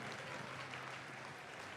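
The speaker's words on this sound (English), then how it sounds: "Let's give everybody a round of applause" A crowd at a district event in Troy applauds, a faint, distant, continuous patter of many hands at low volume.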